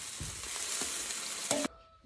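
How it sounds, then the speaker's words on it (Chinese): Blood sausage slid into a hot pot sizzles loudly and steadily for about two seconds, with a sharper burst of frying near the end before it quickly drops off. "血肠啊，下锅里"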